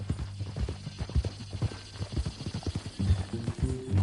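Horse hooves clip-clop steadily in Red Dead Redemption 2, an uneven series of close thuds over a low hum, with a brief whinny-like tone near the end.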